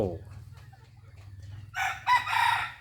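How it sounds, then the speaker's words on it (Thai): A golden pheasant gives a harsh, crowing call near the end, after a low rumbling background and a faint cluck at the start. "วันนี้ก็มาถ่ายไก่ฟ้าโกเด่นเยนโล"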